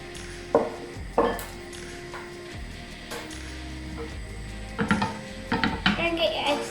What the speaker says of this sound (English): now the butter has started to melt. We add in our eggs.